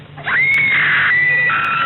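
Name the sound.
screams in a horror radio show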